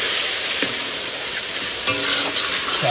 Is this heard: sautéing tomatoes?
yes